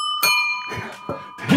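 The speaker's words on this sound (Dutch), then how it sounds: "Van allemaal fietsbellen, dat is leuk." A bicycle bell rings steadily, its bright tones sustained throughout, as part of a children's music session where several bicycle bells are played together like an orchestra, with short vocal bursts layered over the ringing.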